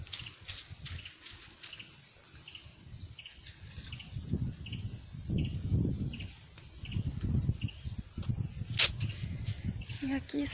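Outdoor nature scene by water with crickets and birds: thin high chirps and insect trills scattered over a low rumble of wind and flowing water, with voices talking intermittently underneath.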